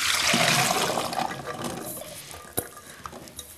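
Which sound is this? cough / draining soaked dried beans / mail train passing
draining soaked dried beans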